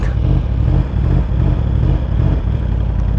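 Yamaha R1M sport motorcycle engine running hot at about 113–118 degrees, a loud steady rumble with slight surges of revving throughout, close to the microphone with no talking.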